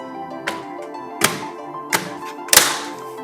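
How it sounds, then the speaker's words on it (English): A ThinkPad T580 lower cover is pressed down around its edges so its clips snap into place. Four distinct, fairly loud plastic thunks sound at uneven intervals, close up, with no speech. "Press down on the perimeter to lock the clips in place."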